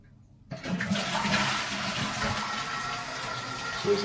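A toilet flushes in a home bathroom, with a sudden loud rush of water that starts after a brief quiet moment and keeps gushing and swirling steadily until the end.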